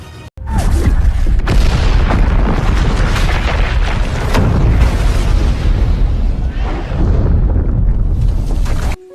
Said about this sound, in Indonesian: Lalu Dan, James, dan Charlie pun berhasil keluar sebelum kapal itu pun meledak